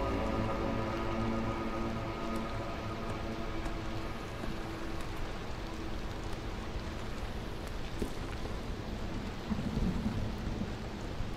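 Continuous heavy rain and rolling thunder from a storm in the video game Against the Storm, a dense, steady hiss and rumble throughout with no speech.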